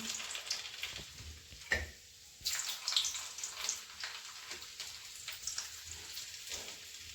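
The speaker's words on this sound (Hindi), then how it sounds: "तो फटाफट से मेथी छौंक दे रहे हैं" Fenugreek seeds temper in hot oil in a home kitchen, giving a soft, crackling sizzle with scattered small pops and one brief quieter lull. No one speaks.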